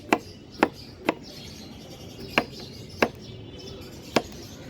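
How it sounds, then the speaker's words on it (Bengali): Six sharp knife strikes on a cutting board as a young cucumber is sliced thin, spaced unevenly over a few seconds, close and crisp against a quiet room. "এই শশার তাকে আমি একটু স্লাইস করে কেটে নিব পাতলা পাতলা করে"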